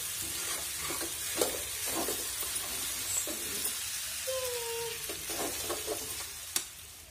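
Rice fries steadily in a pan with a soft continuous sizzle, broken by occasional scraping stirs and a couple of sharp utensil taps, with no voices.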